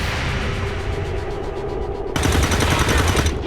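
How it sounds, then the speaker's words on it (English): Automatic gunfire from the XCOM 2 video game, dense rapid bursts rattling continuously over a steady rumble and growing louder and heavier in the final second. "I'm taking fire!"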